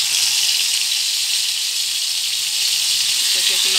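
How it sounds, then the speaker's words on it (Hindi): Chicken drumsticks fry in hot oil with a loud, continuous hiss that holds steady from start to finish, close by, with a faint hint of a voice near the end. "अब इसमें मैं डाल रही हूँ इसको फ्राई करने के लिए"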